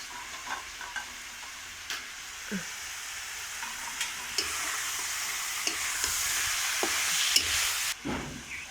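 Chicken curry frying in a pan as tomato, green chilli and ginger go in, a steady sizzle with intermittent stirring scrapes and clinks throughout, close and alone.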